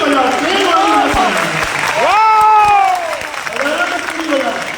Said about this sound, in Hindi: अच्छा, ताली बजाओ तो पूरी बजाओ, प्रेम वाली बजाओ